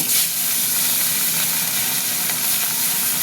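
Pieces of fish frying in oil produce a loud, dense, continuous sizzle and hiss, close up and steady throughout.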